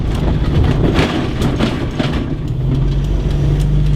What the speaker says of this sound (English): If you're wondering what that noise is, I've just got a bunch of car parts in the back.